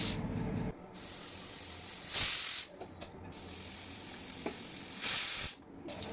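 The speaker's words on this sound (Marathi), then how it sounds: "आपल्या कुकरच्या शिट्ट्या होत आहेत आणि तीन चार कुकरच्या शिट्ट्या काढून घेऊयात" A pressure cooker on a home stove, with dal (toor and masoor lentils) inside, releases bursts of steam in two loud hissing whistles, each lasting about half a second, with a steady softer hiss in between.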